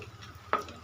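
Sipi balls fry in hot oil and are stirred often so they brown evenly; there is a low steady sizzle, and a single short scrape of the stirring utensil stands out near the middle.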